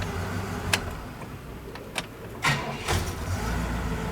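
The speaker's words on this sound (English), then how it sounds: "We'll just shut it off and immediately hit the key and see if she comes back." A 1968 Pontiac LeMans engine is shut off and immediately restarted: a few sharp clicks, then a quick cranking burst that catches and settles into a low, even idle nearby.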